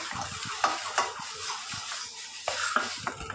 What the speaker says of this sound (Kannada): ಒಂದು 2 ಮಿನಿಟ್ಸ್ ಇದು ಮಸಾಲೆನ ಫ್ರೈ ಮಾಡ್ಕೊಳ್ಳೋಣ